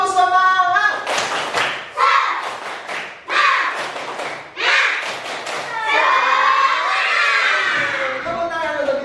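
A classroom of students performs a rhythmic spirit clap during a morning lesson, bursts of clapping and thumps broken by short pauses, with children's voices shouting along and a teacher's voice over the top.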